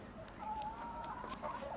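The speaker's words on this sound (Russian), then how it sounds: "Вау, куры." Chickens and a rooster at a petting zoo cluck in short, repeated calls, fairly close and moderately loud, over a busy background of visitors' noise.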